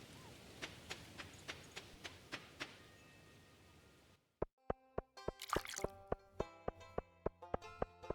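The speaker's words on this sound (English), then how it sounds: "every time you hear that little juicy water sound effect" In Stardew Valley, small juicy plops of water mark a spot with siftable water. A run of soft, evenly spaced drips comes first, then sharper plinks with a brief splashy burst, all fairly quiet and without talking.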